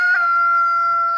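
Chickens in a garden plot, where they are fertilizing the soil, give a loud, close, sustained crowing call that holds a steady pitch through the whole moment, with no talking.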